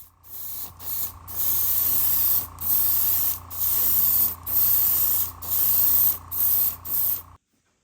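An aerosol can of Kaleido Color paint sprays the underside of a 25-year-old Revell Chevy S-10 Lowrider model kit in a series of about eight close, hissing bursts of a second or so each, separated by brief pauses, ending abruptly.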